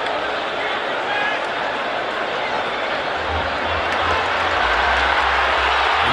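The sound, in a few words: stadium crowd roaring at a soccer match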